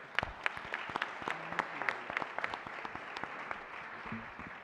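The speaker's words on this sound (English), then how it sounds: "Another round of applause for Commissioner Weipert" Audience at a county board meeting applauds with steady, moderately loud clapping throughout, sharp individual claps standing out over a continuous patter.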